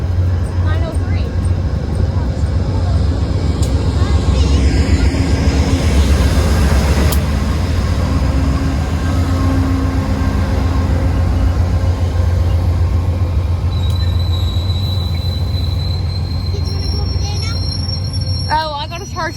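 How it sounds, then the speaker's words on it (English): A CN train rolls past at Brockville with a steady, heavy rumble close by, and thin metallic wheel squeals rise near the end. "Here comes a CN train."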